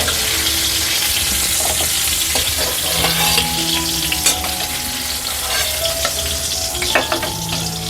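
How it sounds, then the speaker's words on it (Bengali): Four pieces of hilsa fish frying lightly in hot oil in a pan, giving a steady, loud sizzle throughout with occasional clinks and stirring scrapes, no voices. "আমি 4 টুকরো ইলিশ মাছ নিয়েছি, একটু হালকা করে ভেজে নিচ্ছি"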